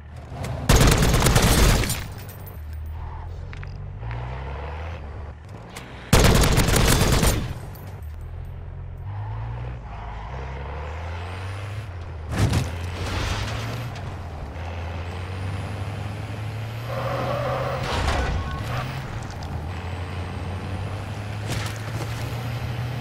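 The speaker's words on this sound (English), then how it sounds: "I'm driving." Vehicle in MW3 Zombies, an FTAC Recon session, rumbles with a low engine drone and shifting gear pitch, cut by two loud bursts of gunfire and a sharp hiss, over continuous game noise with no talk.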